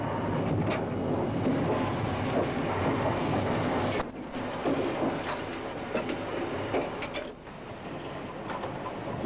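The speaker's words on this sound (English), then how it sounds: "we see the procedure at the top of the bank as the train accelerates away from our Ginty" A steam train accelerates away at the top of a bank with a banking engine assisting, a dense continuous rumble and clatter of wagons close by, broken by a sharp transient midway and easing slightly toward the end.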